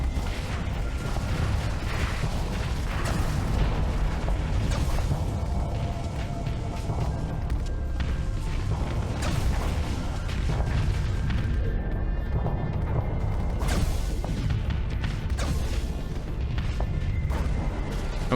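Dense bursts of space-battle explosions and weapon fire in Starsector, with booming impacts and crashes overlapping in a constant loud barrage and no voices.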